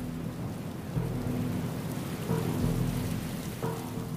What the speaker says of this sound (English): For a few days, we've been having long-awaited rain.